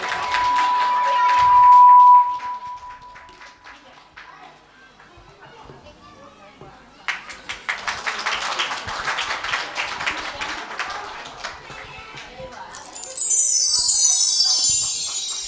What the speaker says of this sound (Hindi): सभी लोग तालियों बजाकर उनका स्वागत कीजिए।